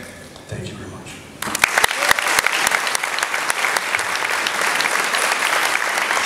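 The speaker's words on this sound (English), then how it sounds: "round of applause. Round of applause." Audience applause bursts out after a short stretch of speech, with sharp individual claps at first building into steady, full clapping that carries on to the end.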